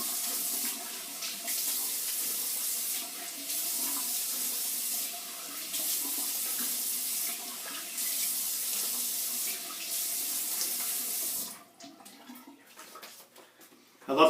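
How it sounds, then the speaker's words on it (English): Cold water pours from a bathroom sink tap to rinse the face after a safety-razor shave, a steady close splashing hiss with brief dips as hands move through the stream, then the flow is shut off near the end. "followed by a cold water rinse"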